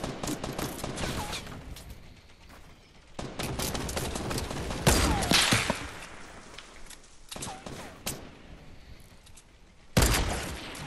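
Gunfire in Fortnite Battle Royale comes in loud, sharp shots and bursts at irregular intervals, some near and cracking, others farther off, over a steady game background.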